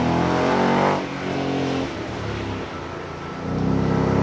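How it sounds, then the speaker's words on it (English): Ford race car on a street track at the Carlisle Ford Nationals: a loud engine roar that drops off under braking, runs lower for a moment, then climbs again as the car accelerates away. "Hard on the brake. And accelerating once more."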